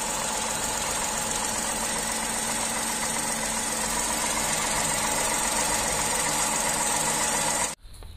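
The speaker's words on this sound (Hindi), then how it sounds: "इंजन के अंदर मैंने ओपन करके आपको दिखाया, फ्रंट से भी दिखाया, साइड से भी दिखाया कि कितनी वाइब्रेशंस हैं।" Tata Tiago three-cylinder engine idling with noticeable vibration, a steady even hum recorded close up that continues for several seconds before cutting off abruptly near the end.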